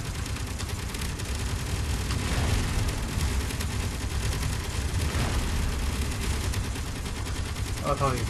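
Ship turrets fire in the Space Engineers video game, giving a loud, dense barrage of rapid shots that rattles on without pause for the whole stretch.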